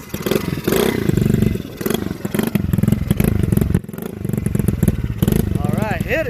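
A 110cc pit bike engine revs hard in repeated bursts, loud and close, with a brief drop before picking back up.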